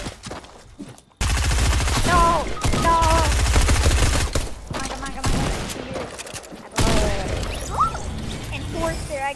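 Gunfire in a shooter video game, including sniper shots, comes as bursts of loud, sharp shots amid a busy mix with speech under it.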